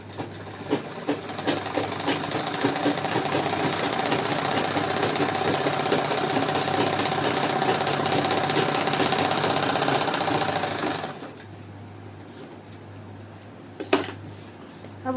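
A sewing machine stitching a straight seam on a Patiala salwar runs steadily for about ten seconds with a dense mechanical whir, then stops, leaving a few faint clicks and handling sounds.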